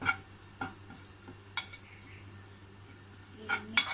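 Neem flowers roast in a pan as they are stirred, with a soft sizzle under a handful of sharp metal scrapes and clinks from the spatula at irregular intervals.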